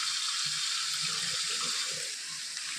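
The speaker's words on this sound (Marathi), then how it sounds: "कांद्याच्या पातीला पाणी लागतं बघा शिजायला बऱ्यापैकी पाणी आपण टाकायचं" Water pours steadily into a cooking pan of moong dal and spring onion greens, a continuous close rushing hiss with faint low clatter underneath and no voices.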